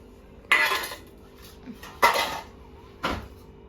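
Sesame laddu mixture being mixed in a metal pan, three separate loud clanks and scrapes of a utensil against the pan spaced about a second apart, with quiet gaps between.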